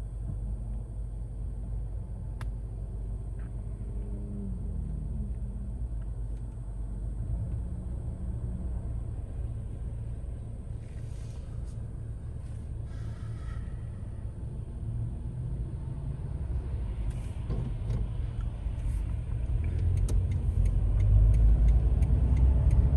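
Interior engine rumble of a car driving along a road, a steady low hum that grows louder and deeper toward the end as it speeds up, with a faint ticking, probably a turn signal, and no talking.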